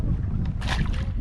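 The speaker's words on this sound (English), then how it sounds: "The wind's blowing." Wind blows over a lake from a kayak, producing a steady low rumble of microphone buffeting with a brief brighter rush of air and water in the middle, loud and close.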